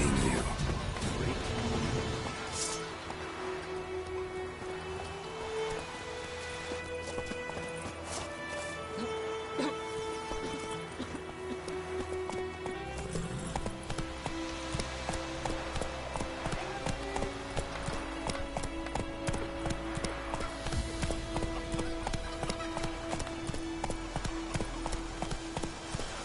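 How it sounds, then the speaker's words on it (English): A horse gallops in The Witcher 3, its hooves striking in a steady, rhythmic clip-clop that carries on throughout at moderate loudness over a busy game soundscape. "Whoa there, Roach"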